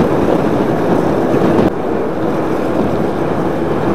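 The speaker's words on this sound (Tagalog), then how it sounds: "Ang lakas ng hangin." Strong wind buffets the microphone on a mountain road in Lobo, Batangas, in a steady, roaring broadband rush, with a brief louder gust before settling into continuous blowing.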